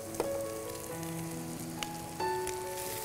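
Beef and onions with whole chilies fry slowly in a pan, giving a steady close crackle with scattered pops and no talking.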